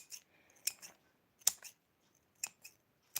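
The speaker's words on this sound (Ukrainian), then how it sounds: "А я поки обрізаю бузину цвіт." Scissors snip through elderflower blossoms in several short, crisp cuts, some single and some paired, heard close up and alone against a quiet background.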